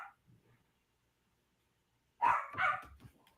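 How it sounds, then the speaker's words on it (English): An indoor dog barks a few times in quick succession, loud and close, after a near-silent stretch. "Sorry about the dog barking."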